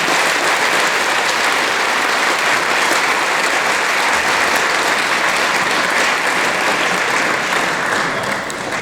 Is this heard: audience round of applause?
yes